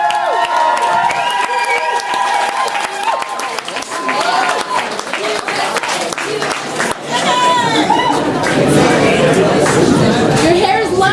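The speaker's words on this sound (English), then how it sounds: "Big round of applause for Sam Tomas" A comedy club audience cheers and chatters as a comedian takes the stage, a dense, loud crowd roar with scattered shouts and clapping that holds steady for about eleven seconds.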